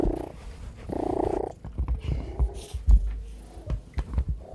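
A soft, close purr with a low rumbling texture, rising in bursts and mixed with small rustles and bumps.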